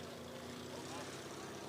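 A propeller airplane at a fly-in air show drones continuously, loud and steady, under a commentator's voice, with crowd ambience around it.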